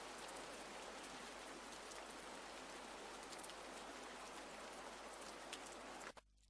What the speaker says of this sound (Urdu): یہ بارش کی آواز تھی.